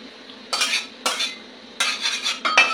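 A spoon stirs and scrapes hot dal in a metal pot in short, bright bursts of four or five clattering strokes with pauses between them, close and fairly loud, with no voices.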